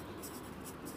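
A pen writes a word on notebook paper in a classroom setting, a brief, soft, continuous scratching close by with no talking.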